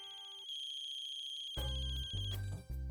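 A phone ringtone plays a bright melodic chime, then louder bursts of the ringing tune sound in quick succession, close and clear.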